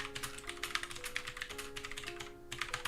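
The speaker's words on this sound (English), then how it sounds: "I have like a typewriter keyboard and it's really difficult to..." Rapid keystrokes on a typewriter-style computer keyboard, a steady close clatter of clicks running throughout with a brief pause near the end, no voices.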